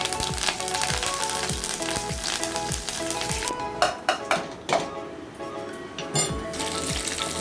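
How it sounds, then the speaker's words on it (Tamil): Mustard seeds, urad dal and curry leaves crackle and sizzle in hot oil for a garlic chutney tempering, a dense continuous frying hiss with sharp popping bursts and a few clinks of a pan near the end. "கடுகு, உளுந்தும் பொரிஞ்சதுக்கப்புறமா கொஞ்சமாக கருவேப்பிலை சேர்த்துக்கோங்க"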